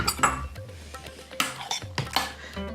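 Spoon scraping and clinking against a bowl while strawberry puree is stirred into yogurt, with a low steady hum beneath the intermittent clatter.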